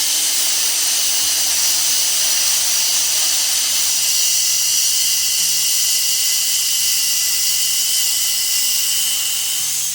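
Sandpaper of 120 grit pressed against a natural-edge burl bowl spinning on a wood lathe, a steady loud hissing whir over the motor's low hum, continuous throughout with no speech.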